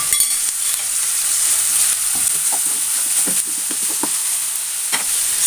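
Crushed garlic and ginger sizzle in a hot pan while being sautéed for fish balls, a loud, steady frying hiss broken by soft scraping taps of stirring.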